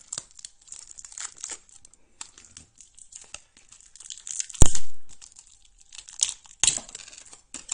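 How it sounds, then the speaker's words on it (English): Plastic wrapping being torn and crinkled off a new SD card package, with a long run of close, soft crinkling and rustling broken by one sharp, louder tearing burst and a few brief bursts near the end. "So let's get rid of this wrapping."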